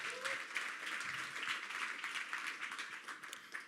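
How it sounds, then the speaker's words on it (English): An audience at a medtech startup demo day applauds, a steady wash of many hands clapping for several seconds at moderate volume, with no voices on top. "Give us a little clap for that."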